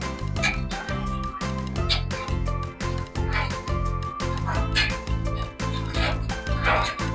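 A dog barks in rapid, repeated bursts, loud and close, with hardly a pause between them.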